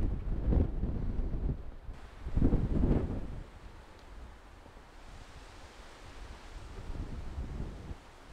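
Wind gusts roar across an open landscape in Norway, strong bursts early on settling into a steady, lower rush of air buffeting the microphone.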